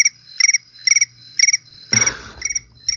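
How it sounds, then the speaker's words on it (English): Crickets chirp in a steady rhythm of short pulsed trills repeating about every half second, close and clear. A brief rustling burst interrupts them once. "Oh, crickets."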